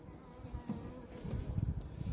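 Honeybees buzz at an open hive where a young bee emerges and the queen is present, a soft close hum that swells and grows denser toward the end.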